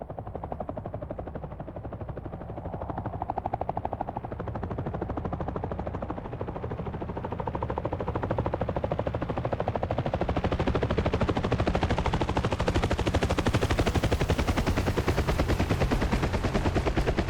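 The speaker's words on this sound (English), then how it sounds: "the Huey helicopter" A Huey helicopter in the DCS World flight game passes by, its rotor thumping in a rapid, steady chop that grows louder and fuller as it draws near and stays dominant to the end, with no talk.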